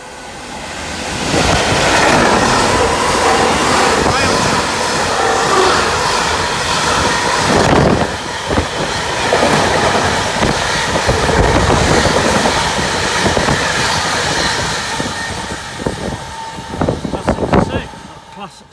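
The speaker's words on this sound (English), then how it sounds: "goods train coming through" A GBRF Class 66, number 66751, goods train rumbles through near Harborough station, loud and close, its wagons clattering in a steady roar for most of the stretch before a few sharp clanks as it tails off.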